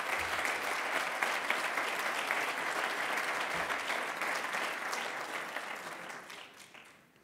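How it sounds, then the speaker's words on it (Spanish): An audience applauds at a responsible gaming award ceremony, with dense, sustained clapping that fades toward the end. "Os pido un fuerte aplauso para él."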